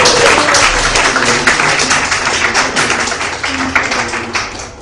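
An audience in Mayapur, India, applauds Anandamai Prabhu, a longtime ISKCON Hyderabad member, with steady, loud, close clapping that fades slightly toward the end, and no voices on top.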